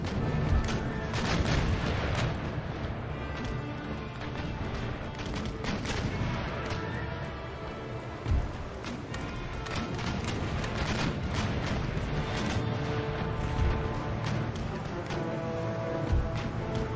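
Sailing warships in the game Empire: Total War fire cannon broadsides of chain shot, dense booming volleys rolling continuously with a few sharper blasts, alongside game battle music and effects.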